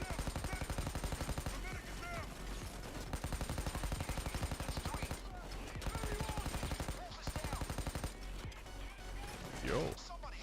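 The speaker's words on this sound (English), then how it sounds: "Some lazy no-scope shooting from here." Quiet rapid gunfire in a heist shooter game, repeated bursts of shots in uneven clusters with brief gaps, fairly faint in the mix.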